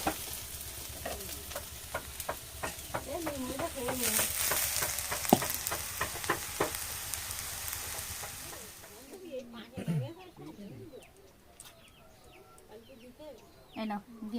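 Gime greens stir-fried in a pan, a continuous sizzle with rapid spatula scraping for several seconds, then the frying stops and someone talks while chickens cluck nearby.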